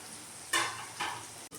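Onions frying in a pan sizzle steadily, with two brief louder bursts of stirring sizzle and a sharp click of a utensil near the end.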